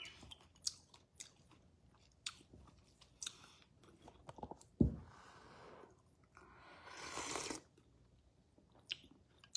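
Someone slurps and eats a simple homemade soup up close, with wet mouth clicks, chewing, a sharp knock and a longer slurp, all quiet with no talk.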